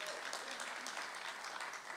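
A summit audience breaks into applause for a speaker on stage, a dense wash of many hands clapping at a moderate distance, continuous and even throughout with no pause.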